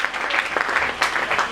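A church congregation claps together in praise, a dense steady patter of many hands filling the room.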